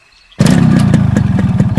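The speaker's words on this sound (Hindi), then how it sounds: "बाइक को किक मारी" A motorcycle is kick-started and its engine catches abruptly, then runs loud and close with a steady rhythmic chugging as it pulls away.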